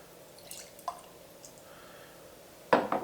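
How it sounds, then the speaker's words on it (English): Stagg Jr bourbon is poured into a Glencairn glass, heard as a few faint drips and trickles and then a short, closer splash of liquid near the end. "We'll pour that into the Gold Champions Glen."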